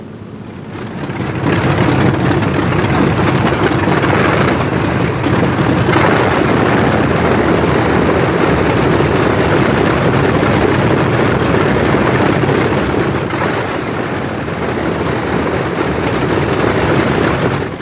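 Douglas A-20 aircraft engine roaring steadily while the plane taxis, a loud continuous drone that swells in after a second and holds for the whole stretch with slight surges.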